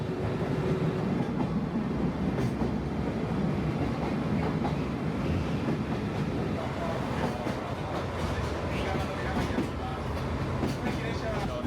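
Sagano Romantic Train rolling along its tracks beside the Hozu River gorge in Kyoto, heard from on board as a loud continuous rumble with rhythmic clickety-clack of the wheels, and a voice talking over it.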